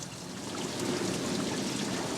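Water rushes steadily through a camper's black water tank as it is flushed out, a continuous close gurgling stream.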